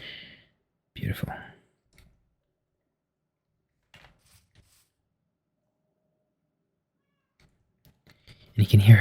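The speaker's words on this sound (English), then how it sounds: "And you can hear her meowing very, very softly in the distance." A Minecraft cat gives a couple of short, soft meows in an otherwise nearly silent game scene, brief faint cries separated by long quiet gaps, with a louder burst of sound arriving at the very end.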